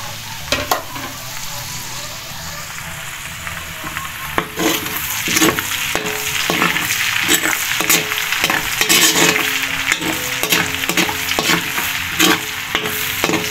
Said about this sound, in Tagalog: Magigisa lang muna ako. So, ilagay na natin ang sibuyas at luya.